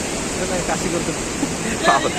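Continuous rushing roar of Napne waterfall in Sindhudurg, Maharashtra, near a glass bridge, broad and steady, with faint voices murmuring underneath.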